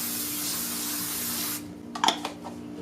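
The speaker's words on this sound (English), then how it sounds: "spraying the back part of the pattern very well, covering everything with a nice coating" Spray adhesive hisses steadily onto the back of a paper puzzle pattern for about a second and a half, then stops, followed by a few faint rustles and taps.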